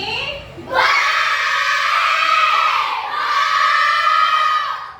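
A classroom full of children in Indonesia shouts a loud, sustained greeting in unison to their teacher, the chorus holding for several seconds with a short dip midway before swelling again.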